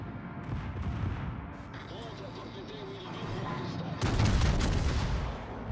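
Ship secondary guns in a naval video game firing in rapid bursts of booms and cracks, growing louder toward the end, with someone talking over the gunfire.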